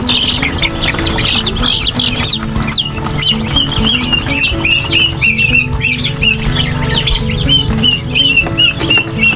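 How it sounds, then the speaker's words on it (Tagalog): Ducklings, chicken chicks and turkey poults crowd together at afternoon feeding time, filling the air with dense, continuous high peeping and cheeping, many overlapping calls close to the listener over a low rumble of background noise. "Mayroon po ditong pato, may sisiw ng manok, mayroon din po sisiw ng pabo."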